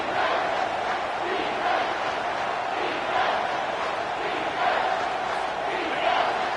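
A stadium crowd at a Nebraska football game roars loudly and continuously, a dense sustained wall of cheering with swelling peaks.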